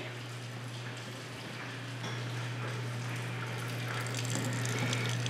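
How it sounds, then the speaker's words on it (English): Water runs steadily from a kitchen tap, a constant rushing hiss under a low hum, growing slightly louder toward the end. "We've let the water run for a little while"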